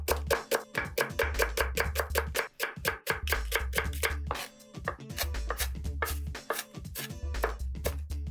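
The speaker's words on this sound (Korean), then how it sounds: "그래서 얇게 썰어 주시면 돼요" A knife thinly slices green onion (daepa) on a cutting board in fast, regular chops, a close, crisp rhythmic tapping with only brief pauses.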